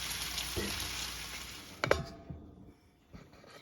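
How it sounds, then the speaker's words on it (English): Bacon frying in a pan makes a steady, soft sizzle with a few sharp pops and clinks of cookware, fading toward the end. "I'm going to put my bacon again, and I'm going to stop my eggs."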